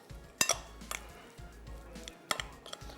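Pulao ingredients with salt and chicken powder being mixed in a pot, a few sharp metal clinks of a spoon against the pot between soft scraping strokes, heard close with no talking.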